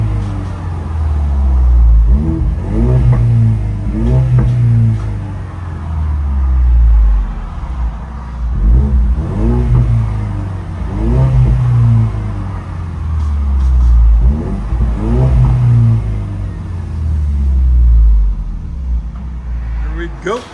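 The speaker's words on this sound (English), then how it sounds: "Ford Mustang Ecoboost. Flowmaster Super 10 duals." A Ford Mustang EcoBoost fitted with Flowmaster Super 10 dual mufflers revs repeatedly, its deep exhaust rising and falling in several surging pulls, loud and close with a throaty rumble between revs.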